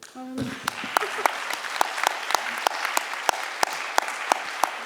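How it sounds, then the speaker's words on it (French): An audience at a French literary meeting with authors applauds the host Christelle; dense, steady clapping with a few sharp louder claps, filling the room after a brief murmur at the start. "on peut applaudir Christelle"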